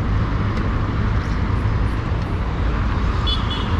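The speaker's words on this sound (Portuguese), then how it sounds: "Não dá nem pra dormir direito esses barulhos dos aviões" Steady, loud roar of traffic and engines with a broad rumble throughout, consistent with airplanes passing overhead in a noisy outdoor setting.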